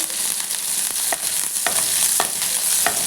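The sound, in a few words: green chillies frying in oil in a kadai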